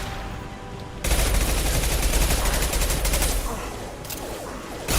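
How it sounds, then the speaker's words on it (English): A concussive shot ability fired in Mass Effect 2: a sudden loud burst of crackling combat noise breaks in after a quieter stretch and carries on as dense, sustained battle clatter. "Firing concussive shot!"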